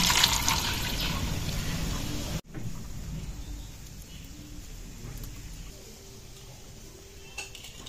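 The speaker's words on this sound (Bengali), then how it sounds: "ঠান্ডা জল দিয়ে দেবো, দিয়ে ডিমগুলো ছাড়িয়ে নেব।" Water runs steadily over freshly boiled eggs in a kitchen, a continuous splashing pour that cuts off abruptly, then gives way to quiet trickles and faint clinks of dishes.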